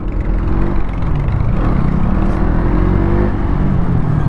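KTM Duke 200 motorcycle from 2024, its engine droning loud and steady with rising and falling pitch through shifts on the road, close and continuous without talk.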